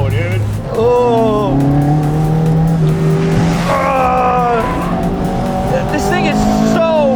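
A 1986 Toyota Corolla AE86 drift car revs hard with rising and falling engine tones and tire squeal, loud and close, under excited voices throughout.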